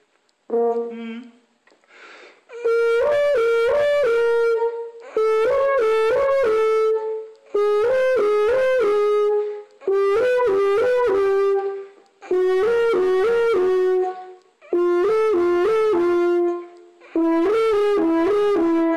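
A brass horn plays a repeated rising and falling three-note warm-up arpeggio in separate phrases with short pauses between them, clear and close.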